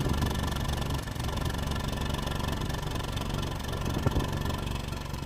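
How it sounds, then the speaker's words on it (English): A Ford Ka 1.2 engine idles roughly and slightly unevenly after a sump replacement, a steady close mechanical hum with a faint knock near the end, heard alone without talk. "The engine is also running. I'm not gonna say it's misfiring, but it's running a little bit funny."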